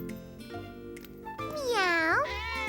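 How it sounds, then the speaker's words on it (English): A cartoon cat gives a drawn-out, rising and falling meow, loud and close, following a bit of background children's show sound. "Gilbert's a kitty cat, not a person"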